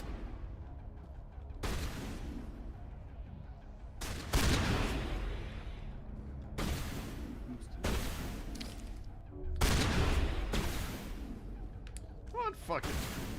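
Repeated bursts of gunfire in the video game Mass Effect come in sharp, loud volleys a second or two apart, with a rumbling tail after each, as someone talks between the shots.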